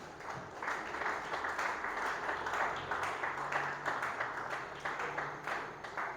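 A church congregation claps and cheers for the Lord during a Sunday worship service, a steady, dense wash of many hands sustained throughout at moderate distance.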